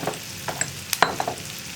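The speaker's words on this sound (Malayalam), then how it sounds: "സവോളയുടെ കളറൊക്കെ മാറി സവോള ഒന്ന് സോഫ്റ്റ് ആയി വരുന്നത് വരെ ഒന്ന് ഇളക്കി കൊടുക്കുക" Onions and masala sizzle in a pan for an egg masala, with scattered scraping taps of a spoon stirring through the steady frying hiss, close and fairly quiet, with no talking.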